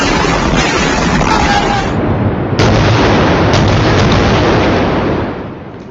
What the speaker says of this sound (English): You are looking at Israeli missiles exploding in Gaza overnight